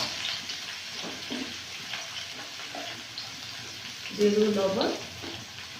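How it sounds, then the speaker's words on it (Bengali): Eggplant slices frying in oil with salt, a soft hiss and crackle running steadily under a woman's speech, with a brief louder burst of activity near the end. "এইভাবে বেগুনগুলো কেটে নিয়েছি, ভেজে নেব। তেল দিয়ে দেব। তেলে ভেজে দেব লবণ দিয়ে।"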